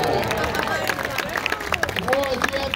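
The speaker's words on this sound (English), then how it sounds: "Et applaudissez." Outdoor crowd at a street performance in Old Quebec claps steadily, with voices shouting and chattering over the applause throughout.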